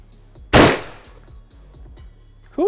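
A single loud shotgun blast with birdshot fired at a brick wall outdoors, one sharp boom that trails off quickly and stands alone with no talk over it.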